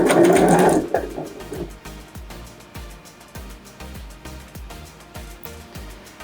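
A sewing machine stitches bias binding onto a round fabric placemat, running at a slow, even pace with a rhythmic mechanical thump, close and clear, after a brief louder noise at the start.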